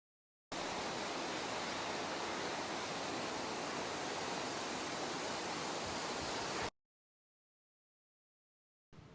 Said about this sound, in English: this is the famous Nachi Falls